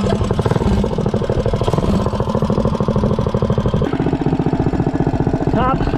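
Minibike with a Predator 212 engine and a 60-tooth rear sprocket running hard, a loud, steady, rapid-firing engine drone that shifts pitch partway through, close to the listener.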